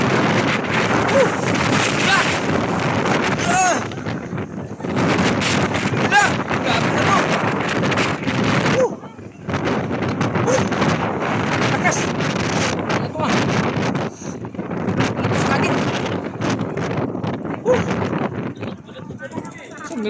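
Strong typhoon wind buffets a fish market at Divisoria, roaring and gusting into the microphone in waves, with people talking through it.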